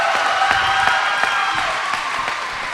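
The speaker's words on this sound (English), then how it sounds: "Let's give them a round of applause." An audience applauds and cheers after a school holiday concert, with sustained dense clapping mixed with crowd noise that tapers slightly toward the end.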